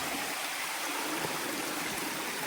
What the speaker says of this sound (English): I've been hearing this water running for a while, and now I finally get to see it.